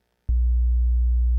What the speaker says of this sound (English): This is the sounds of electrical interference.